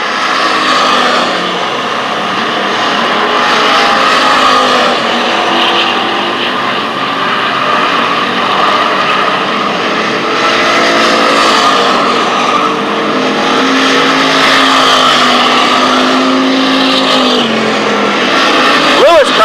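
Race cars roar around the oval at Lancaster Speedway during the 2000 US Open, a loud continuous engine drone with passing pitch sweeps as the pack runs, while a commentator talks excitedly over it.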